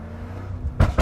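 Exhaust of a tuned BMW M5 in M1 manual mode, heard from inside with the windows halfway down: a low idling rumble, then two loud, sharp pops close together near the end.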